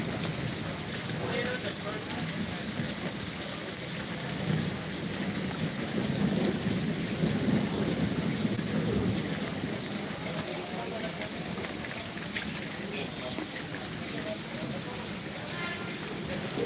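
Heavy rain pours steadily in Kallar Syedan near Rawalpindi, Pakistan, with deep rumbling thunder swelling midway through the constant, dense downpour.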